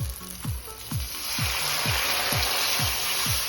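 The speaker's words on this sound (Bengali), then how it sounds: "মশলা ভাজা হয়ে গেছে, এখন জল দিয়ে দিই।" Water poured into a pan of frying spices for a Bengali small-fish chorchori, a steady loud sizzle and hiss rising after the first second, with a regular ticking pulse running underneath.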